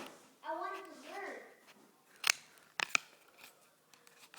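Scissors cut through folded paper up close, giving a few sharp, crisp snips with short pauses between them, after a stretch of soft background voice.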